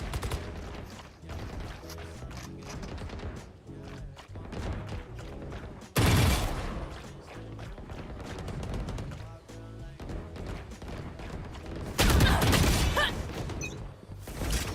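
Sustained gunfire from a Valorant esports match, Sentinels vs G2 in the VCT Americas Grand Finals, with dense rapid bursts and sharp shots throughout, rising louder in bursts at about six and twelve seconds.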